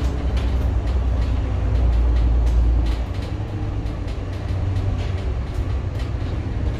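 A MAN Lions City bus, fleet number 1026, driving on a test run, heard from inside as a steady low engine rumble with road noise, slightly heavier in the first half, with no talking.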